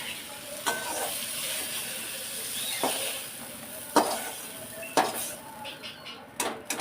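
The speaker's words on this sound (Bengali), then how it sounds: "একটু ভালো করে ভেজে নেব" Quiet sizzling from a pan of prawn heads frying, broken by occasional scrapes and clinks of a spatula as the food is stirred.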